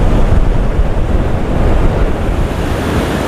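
Sea waves crash and churn on the beach at Murud with a strong wind buffeting the microphone, a loud, continuous roar with no voices.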